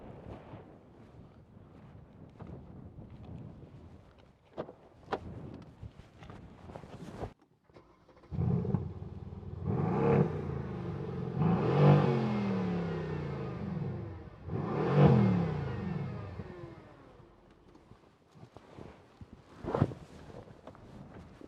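A 2016 Mercedes-AMG C63 V8 BiTurbo saloon revs hard several times, loud throaty bursts that swell and fall away, with quieter rustling and clicks before the engine opens up.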